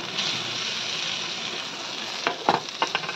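Oil sizzles and crackles steadily in a hot pan as pomfret fish fries, with a few sharp scraping clatters toward the end.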